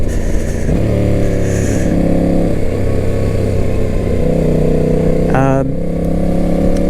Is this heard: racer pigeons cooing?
no